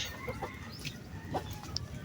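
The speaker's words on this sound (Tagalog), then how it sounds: "May mga manok din pala dito." Chickens clucking outdoors near a pigeon loft, several short, soft clucks at irregular intervals over steady low background noise, faint and somewhat distant.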